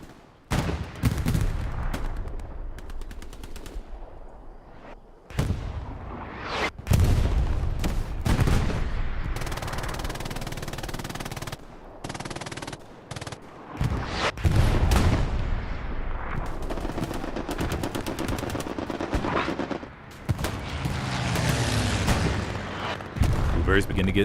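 Artillery and gunfire in Hell Let Loose, a competitive Allied match on Carentan Causeway: repeated heavy booms and crackling shots, some near and loud, others distant, with voices talking over the battle.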